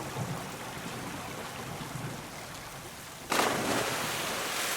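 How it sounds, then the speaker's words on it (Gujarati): A flooding river rushes steadily in a continuous broadband roar, growing suddenly louder and brighter near the end. "પાણી પૂર ઝડપે વહેતું હતું"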